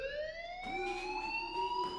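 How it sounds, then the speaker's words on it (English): A fire alarm in the video game Life is Strange sounds continuously, a steady electronic wail with pulsing rises, heard alone and at moderate distance. "Hey, do you hear that fire alarm?"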